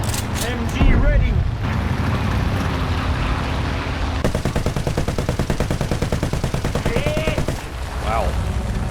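A tank's machine gun fires in War Thunder from an M3 Lee. A long, rapid, continuous burst starts partway through and runs to the end, over a steady engine rumble.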